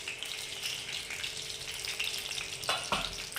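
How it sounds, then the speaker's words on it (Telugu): Mustard seeds frying in hot oil give a steady crackling sizzle, close and fairly quiet, with a couple of sharper pops near the end and no talk. "ఆవాలు కొంచెం చూడండి, ఇదే ఆయిల్లో వేసుకున్నాను."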